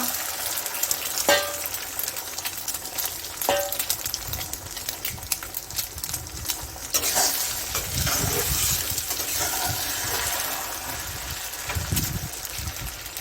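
Steady sizzling and crackling of four beaten eggs frying in a pan for garlic egg fry, with occasional scraping and stirring sounds, fairly close and continuous throughout.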